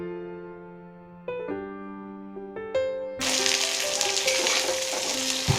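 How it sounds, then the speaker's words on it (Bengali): Banana peels go into a pan of frying spices after a stretch of soft music, bringing a sudden loud, steady sizzle that continues up close with background music still playing. "সবকিছু ভাজা হয়ে গেলে এর মধ্যে সেই কলার খোসাগুলো দিয়ে দিচ্ছি।"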